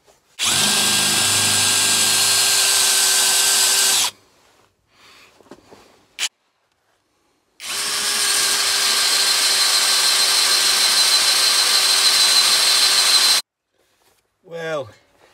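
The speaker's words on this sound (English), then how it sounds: "Let's get some drilling done." A power drill boring holes in wood, with two long sustained runs of steady high-pitched whining separated by a pause, loud and close, with faint handling noises between.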